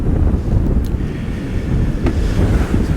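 Strong wind buffets the microphone at an open-water winter fishing match, a loud, steady low roar that covers the whole stretch with no voices.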